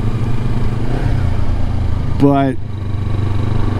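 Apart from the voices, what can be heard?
Kawasaki Versys X 300 motorcycle riding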